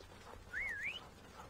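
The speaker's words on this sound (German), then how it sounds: "Hör auf zu pfeifen." A single short whistled note from a person glides upward, dips, and then rises again, clear and fairly close against a faint background hush.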